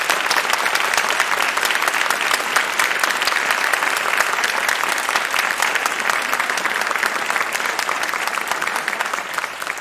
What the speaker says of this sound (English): I think it's appropriate to give these candidates a round of applause